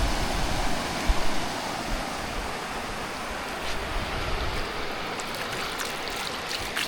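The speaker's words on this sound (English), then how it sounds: "Crystal clear water, beautiful clean beach, Scotland." Water laps steadily on a clean, clear-water beach in Scotland, a continuous soft wash and fizz of small waves close by, with no voices.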